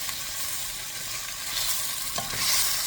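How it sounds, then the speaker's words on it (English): Sautéed pearl onions, cooked in butter and olive oil, get stirred into a pot of beef bourguignon, producing a steady close sizzle broken by soft scraping strokes of the spoon, with no talk. "I'm gonna stir this around just for a little bit."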